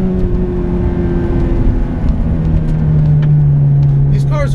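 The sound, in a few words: Ferrari F430 manual engine revving while shifting gears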